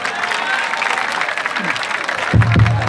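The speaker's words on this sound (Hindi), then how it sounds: "तो एक बार फिर तालियां बजा दो" A crowd claps steadily throughout, a dense wash of applause with a brief low thump near the end.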